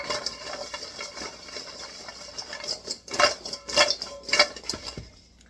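Ingredients tossed with garlic in a bowl give a run of clattering, scraping knocks that build into several louder bursts near the end, close and fairly loud, with no talking.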